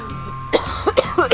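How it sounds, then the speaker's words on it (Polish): Several short coughs in a quick uneven run, close and fairly loud, from a man playing Worms Revolution, with faint game sounds in the background. "Kaszleć mi się chce od tego."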